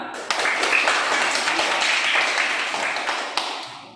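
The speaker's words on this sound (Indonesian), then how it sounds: "Tepuk tangan." Children in a classroom clap their hands together in a lively, steady burst of applause lasting several seconds, close and fairly loud with no talking.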